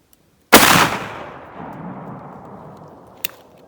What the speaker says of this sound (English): I'm gonna try to shoot these two to the outside of the patterning board there